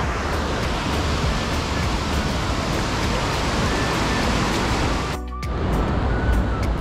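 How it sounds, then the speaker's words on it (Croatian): Indian Ocean surf washes steadily onto a beach in Bali, a broad continuous roar of breaking waves close by that dips briefly before surging again. "Na obalama Indijskog oceana."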